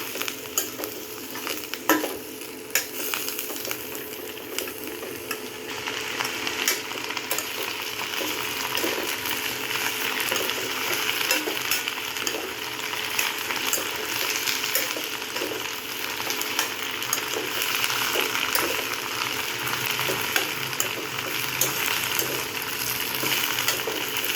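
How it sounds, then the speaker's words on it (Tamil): Vegetables for kadhambam chutney sautéing in a pan, a steady close sizzle with constant scraping and stirring clatter, moderately loud and uninterrupted throughout. "நம்ம இதை கொஞ்சம் வதக்கிட்டு அதுக்கப்புறம் தேவையான அளவு நம்ம உப்பு சேர்த்துக்கலாம்"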